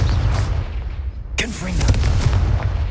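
Confringo blasting spell from Hogwarts Legacy, one sharp loud explosion midway through, a booming crack followed by crackling debris over a constant low rumble of game noise.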